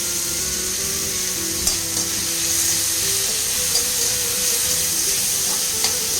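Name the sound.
onion frying and being stirred in a pan for sambar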